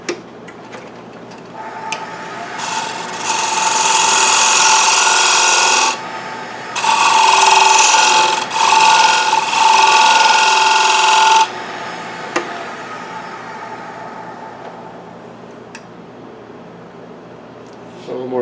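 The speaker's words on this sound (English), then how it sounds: "I can use my spindle gouge and come right down and make that a little more of a bead." A spindle gouge cuts a bead into a wooden sushi dish spinning on a woodturning lathe, giving two sustained bursts of scraping, hissing cutting noise over the steady hum of the lathe motor.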